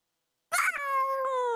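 A cat gives a single loud, drawn-out meow close to the microphone after half a second of silence, its tone sliding slightly down as it trails off.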